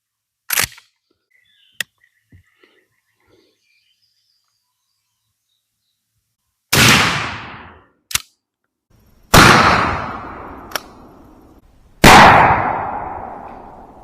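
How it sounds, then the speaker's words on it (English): A 12 gauge shotgun firing Hornady Varmint Express No. 4 buckshot outdoors from a Winchester, with a few loud blasts that ring and decay across the range, separated by quiet gaps and a couple of sharp clicks. "here's our third Hornady Varmint Express out of the Winchester. Let's shoot this"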